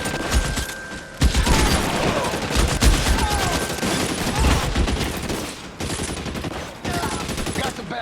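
Rapid gunfire from the crime game LA Noire, with dense volleys of shots continuing through the clip and short gaps between bursts.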